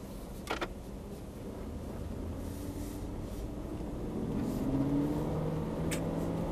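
An Aston Martin pulls away from the pit lane at Thruxton circuit, its engine note rising steadily as it accelerates, a continuous loud drone with climbing pitch and no talk.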